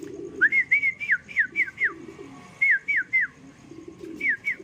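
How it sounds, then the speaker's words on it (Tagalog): Pigeon calls come in short, rising whistled phrases, three to five notes at a time with brief pauses, over a soft low murmur. "ito pa isa nating ibon, si Johnson President."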